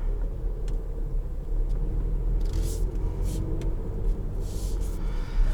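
A 2021 Dodge Durango GT Blacktop Edition cruising in normal mode, a steady low engine and road rumble from inside the cabin with faint intermittent clicks and swishes over the drone.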